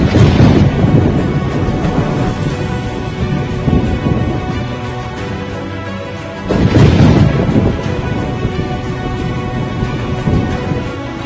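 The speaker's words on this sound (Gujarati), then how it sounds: "ધોધમાર વરસાદને કારણે બગસરાની સાતલડી નદીએ રૌદ્ર સ્વરૂપ ધારણ કર્યું" Heavy downpour in Amreli district, Saurashtra, a dense, loud and continuous roar of rain with a low rumble like thunder swelling at the start and again midway.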